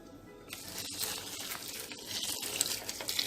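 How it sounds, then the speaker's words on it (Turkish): Hot water pours in a steady gushing splash over salted grape leaves packed for brining, starting abruptly and continuing close and moderately loud. "Daha sonra da sıcak suyumu dökeceğim."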